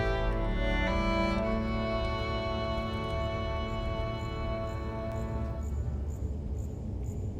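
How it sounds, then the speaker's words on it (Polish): Crickets chirp in the video game Minecraft, forming a dense, steady high-pitched tonal drone that fades partway through and gives way to quieter, sparser chirps. "Świerszcze?"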